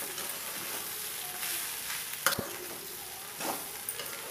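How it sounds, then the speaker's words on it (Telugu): Masala is stirred into frying bitter gourd pieces for a curry, giving a soft, continuous sizzle and a few scraping strokes of a spoon against the pan, with one sharper clink in the middle. "మసాలా అంతా ముక్కలకు పట్టేటట్టు కలుపుకోవాలి"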